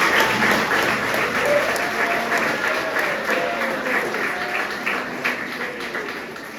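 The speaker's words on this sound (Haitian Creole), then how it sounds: "Je vous invite à applaudir Doris Prévost." At a conference day organised by former students, the audience applauds speaker Doris Prévost with sustained clapping from many people across the hall, while voices murmur faintly beneath it.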